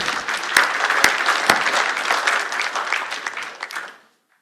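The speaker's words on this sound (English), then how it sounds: "Let's give her another round of applause" A room of people gives a speaker another round of applause, a dense, fairly loud burst of clapping with a few sharp individual claps standing out, tapering off and stopping abruptly after about four seconds.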